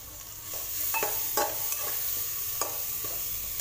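Bay leaf, cloves and peppercorns fry in a little oil for spiced rice, with a steady close sizzle broken by several sharp clinks and scrapes of a stirring spoon against the pan.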